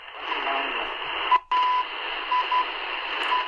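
Tecsun PL-200 portable radio tuned to shortwave, giving a steady loud hiss of static with brief tuning tones and one short dropout as the dial moves, close up.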